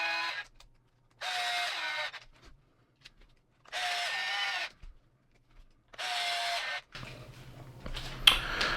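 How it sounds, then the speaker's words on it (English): A power drill on its lowest setting drives differential cover screws into an RC crawler's AR45P axle, giving four separate whirring bursts of about a second each with quiet gaps between them, followed by faint handling clatter. "I'm gonna put it in the trusty drill on number 1"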